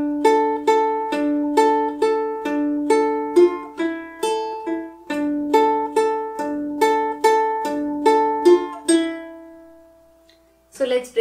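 Ukulele plays the plucked intro of a song from Gully Boy, a steady run of bright picked notes in a regular rhythm for about nine seconds, close and clear, ending with a held note and a brief strum.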